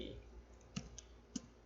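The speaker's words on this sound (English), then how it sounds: "So next command that we're going to type is show IP" Computer keyboard being typed on at a desk, a few faint, sparse clicks with quiet background hum.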